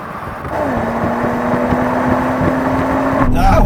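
A BMW M340i launches hard off the line in a drag race against an Audi S5 and an AMG C43, its engine note rising steadily in a loud, close, building drone that stays heavy in the low end throughout.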